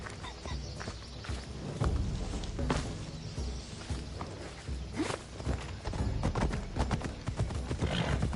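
Horse hooves clip-clop steadily on the ground in Assassin's Creed Odyssey, a continuous walking rhythm of hoof strikes with a whinny and rustling game ambience around it.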